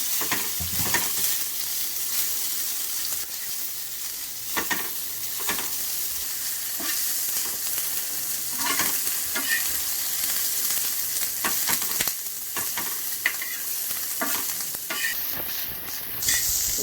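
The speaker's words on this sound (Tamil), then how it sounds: "இதை வந்து நம்ம இப்போ தோசைக்கல்ல போட்டு லைட்டாக ரோஸ்ட் பண்ணி எடுத்துக்கலாம்" Paneer cubes roasting in butter on a dosa griddle over low heat, a constant close sizzle broken by repeated scraping and tapping of a spatula against the iron surface.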